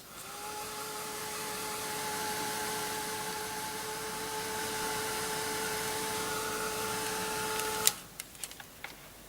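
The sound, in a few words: heat tool drying crackle glaze on card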